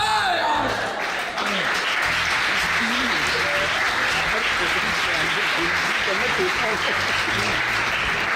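A comedy show audience gives long, steady applause that stays dense and loud throughout, with voices faintly mixed in beneath the clapping.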